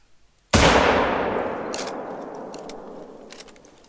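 A single loud rifle shot in The Hunter: Call of the Wild, aimed at a bison, a sudden sharp crack that rolls into a long fading echo lasting several seconds.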